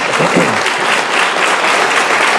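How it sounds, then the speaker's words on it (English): Loud, dense audience applause during an evening talk or debate, continuous clapping filling the whole moment, with a faint voice briefly audible near the start. "I like the applause"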